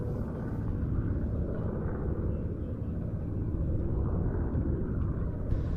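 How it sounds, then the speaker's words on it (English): Two WWII American fighter planes fly in formation over an airshow, giving a steady, heavy engine rumble that holds evenly throughout without rising or fading, with no voices over it. "what a formation that is, too, of two of the great American fighters of the Second World War"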